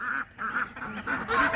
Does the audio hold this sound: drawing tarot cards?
no